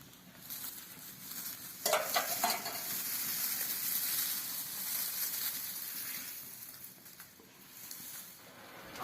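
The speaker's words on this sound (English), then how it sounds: "Reheat the fermented water and boil it together with the dried leaves." Pot of fermented mustard leaves boiling in their reheated fermented water, a steady bubbling and simmering hiss with a brief clatter partway through, close and continuous.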